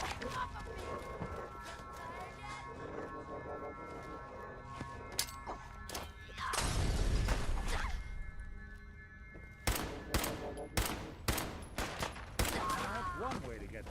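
Gunfire in Fallout 4: scattered single shots and a dense burst of fire, loud and close, followed by several sharp reports near the end, with a voice speaking in between.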